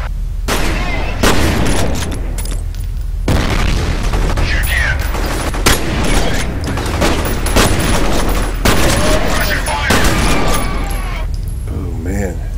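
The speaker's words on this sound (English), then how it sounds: "Switch to my shotgun." Shotgun blasts and heavy gunfire in the first-person shooter video game F.E.A.R., loud repeated bursts stacked close together through the span, with a player talking over the shooting.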